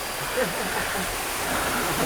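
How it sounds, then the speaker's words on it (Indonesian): A small forest waterfall rushes in a steady broadband roar, close and continuous, with faint voices mixed underneath. "Udah air terjun kecil gitu."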